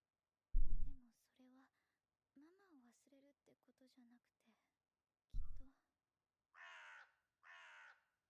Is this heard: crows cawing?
yes